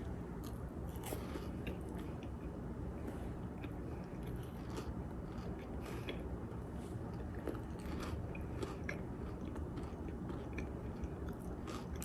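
Someone bites into and chews a Dubai chocolate brownie bite close up, a dense, continuous run of soft crunching, squelching and smacking mouth sounds with scattered small crackles, with no talking.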